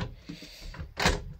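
An interior door in a rental house opens with a short wooden creak and rattle that ends in a louder rushing scrape, heard close at hand.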